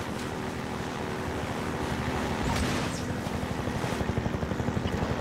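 A combat helicopter in Half-Life 2 roars overhead through a boat sequence, its steady engine rumble mixed with wind and water noise, with the rotor chop growing more distinct and pulsing toward the end.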